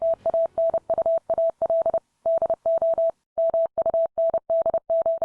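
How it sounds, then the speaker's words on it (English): A steady stream of Morse code beeps: short and long bursts of one clear mid-pitched tone, separated by brief gaps and one longer pause. "Morse code would sound something like this"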